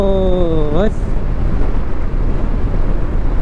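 Strong wind buffets the microphone in a steady, loud roar on the winding Mugling–Kathmandu road, after a brief voice at the start.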